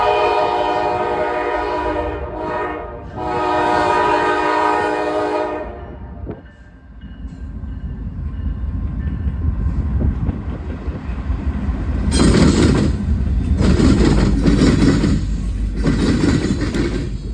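A loud horn blast opens, then NS 188, a heavy Norfolk Southern manifest freight train, rumbles past close by, wheels clattering steadily as the roar builds and continues.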